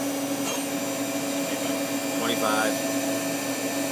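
The sub-spindle of a Mori Seiki ZL-15SMC lathe spins a collet at about 2,000 RPM with a steady, smooth whine and hum, close by, while a person briefly speaks over it.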